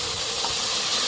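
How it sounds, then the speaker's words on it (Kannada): Ground masala frying in hot oil in a cooker for mutton sambar, a loud steady hiss of sizzling that stays constant throughout the short stretch, close up with no voices. "ಇದನ್ನು ಫ್ರೈ ಮಾಡಿ ಎಣ್ಣೆಯಲ್ಲಿ"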